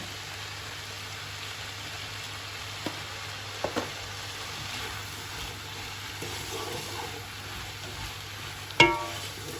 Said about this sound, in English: So I'm going to give it a good mix